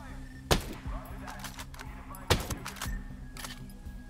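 Gunshots in the tactical shooter Ghost Recon Breakpoint: two sharp, loud cracks about two seconds apart, with lighter clicks and faint background game sounds between them.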